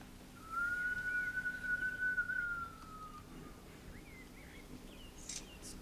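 A single long, steady human whistle imitating distant wind holds one pitch for a few seconds, soft and airy, followed by faint chirps in quiet background.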